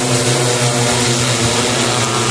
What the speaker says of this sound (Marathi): या ठिकाणी ड्रोन सुरू होत आहे, आपण पाहू शकतो।